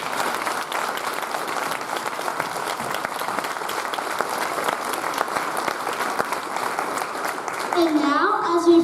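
A school assembly audience applauds honored guests and military veterans on Grandparents Day, a sustained, even wash of many hands clapping throughout, swelling slightly near the end, with a voice faintly audible under it.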